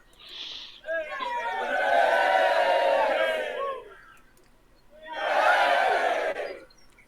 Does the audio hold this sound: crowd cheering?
yes